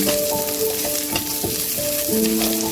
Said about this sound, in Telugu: కాజు కూడా ఫ్రై చేసేసుకోవాలి